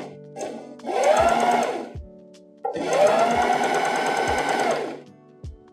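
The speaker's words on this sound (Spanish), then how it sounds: "Y ahí sigo cosiendo" Sewing machine stitching stretchy tricot strips in two loud, close runs of rapid whirring, each started and stopped with soft clicks, with no talking over it.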